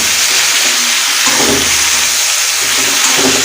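Quail pieces being stirred and fried in hot oil give a steady, loud hiss and sizzle throughout, with faint scraping as the meat is mixed.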